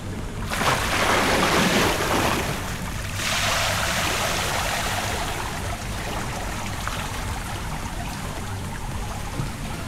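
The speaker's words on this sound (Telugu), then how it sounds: "సో ఇలా ఒక డైవ్ వేసేద్దామా" A person dives into an outdoor hotel swimming pool in Udaipur, filmed with an action camera without a dive case; a loud splash and rush of water open it, then continuous muffled underwater churning and bubbling follow.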